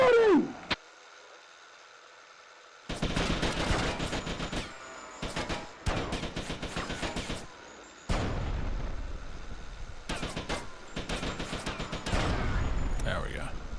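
Rapid bursts of automatic gunfire in the video game GTA: Hardlined, loud and dense, broken by short gaps after a brief quiet opening, with explosive impacts mixed in.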